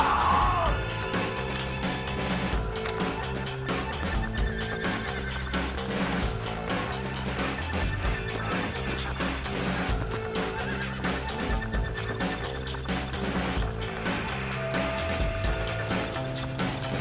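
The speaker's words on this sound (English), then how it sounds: "Jack, Gnarlin, get on this horse." A horse whinnies amid busy layered music and sound effects in the video game Red Dead Redemption, with hoofbeats and clatter running continuously throughout.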